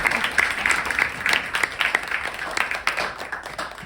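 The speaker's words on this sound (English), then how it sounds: "let's please all have another round of applause" An audience at a music appreciation session applauds steadily, a dense wash of clapping from many hands that holds at an even level throughout, fairly close and full, with no talk over it.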